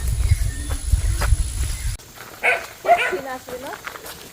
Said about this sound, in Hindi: यहाँ पर तो कुत्तों ने भौंकना शुरू कर दिया हमारे ऊपर।